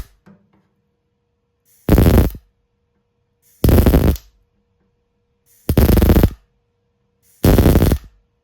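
A welder laying four spot welds on the body of a 1985 Peugeot J9 diesel van: four loud, evenly spaced buzzing bursts of about half a second each, separated by near silence, with faint handling noise at the start.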